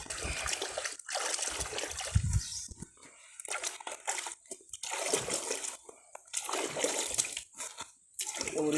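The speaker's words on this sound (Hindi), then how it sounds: "एक बार धोते हैं बाल्टी को" Well water sloshing and splashing in a muddy bucket as it is rinsed, with repeated bursts of pouring and swirling separated by short pauses, close and fairly loud.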